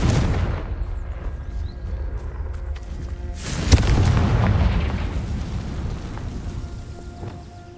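A Confringo fire spell is cast in the Hogwarts Legacy video game, setting off a sharp crack that grows into a loud rumbling boom and then fades slowly, heard over low game ambience.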